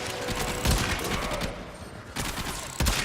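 Charged shots from the Tenora rifle in the Warframe video game fire in rapid bursts, several loud close cracks over a dense background of game noise, with a short pause before the next volley.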